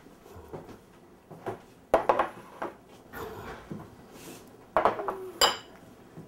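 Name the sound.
stir-frying chow fun noodles in pan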